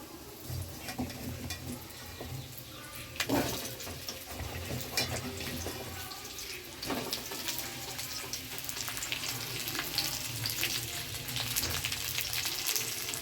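Potatoes fry in hot oil with a continuous close sizzle, broken by a few sharper crackles and scraping stirs.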